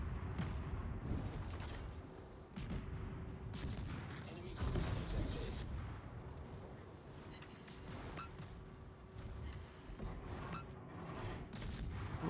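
Heavy naval gunfire in the warship battle game World of Warships, with repeated booming salvos and impacts over a dense rumbling battle bed, plus mechanical whirs and a speaking voice at times.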